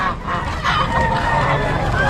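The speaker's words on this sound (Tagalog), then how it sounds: "Ito gansa. Gansa." Dense, loud honking of many geese close by at a pet market in Baliwag, a continuous noisy chorus filling the whole moment.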